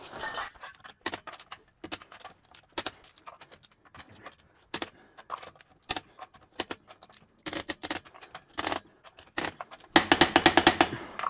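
A torque wrench tightening the wheel lug nuts on a Hyundai Santa Fe: close, crisp ratcheting clicks come in short bursts with pauses between them, and a louder, faster run of clicks near the end.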